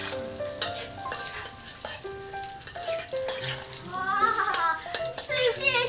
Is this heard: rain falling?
no